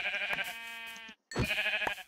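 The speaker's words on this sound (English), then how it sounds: "I saw sheep, I saw sheep, I saw sheep." Two close, loud sheep bleats from Minecraft, a long wavering cry followed after a short pause by a second shorter one.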